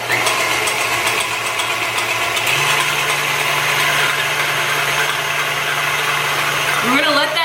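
An electric stand mixer whisks a cup of heavy whipping cream at a steady mechanical hum, its motor tone stepping up slightly partway through, with someone talking over it near the end.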